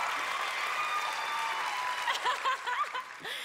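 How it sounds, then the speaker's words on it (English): A studio audience on a televised singing competition bursts into loud, sustained applause with scattered cheers, and a voice starts talking over the clapping toward the end. "Let them clap, baby, when they want to clap."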